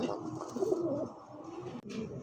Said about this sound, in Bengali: সিঙ্গেল আরেকটা কবুতর দেখেন, মডার্না।